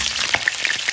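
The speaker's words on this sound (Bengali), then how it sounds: "আলুটা আমি একদম লাল লাল করে ভেজে নেব" Potatoes frying in oil with black sesame and fennel seeds, a brief close crackling sizzle with a few sharp pops.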